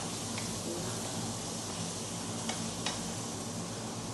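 Pancit cooks in a pan with a steady, continuous sizzle and occasional faint scraping ticks, heard alone at moderate distance.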